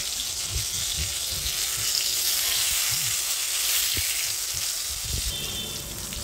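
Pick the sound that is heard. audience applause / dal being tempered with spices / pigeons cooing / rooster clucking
dal being tempered with spices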